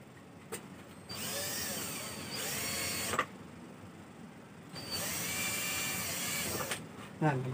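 A power drill bores a hole for a concealed cabinet hinge, whining in two steady runs of a couple of seconds each, separated by a quiet pause, with sharp clicks at the starts and stops.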